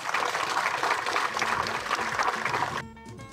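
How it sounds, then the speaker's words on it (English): Applause honouring the Zambian army battalion serving with the UN in the Central African Republic; a sustained patter of clapping from a gathered crowd that cuts off abruptly near the end. "Let's give them a hand of applause."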